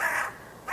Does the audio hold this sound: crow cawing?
yes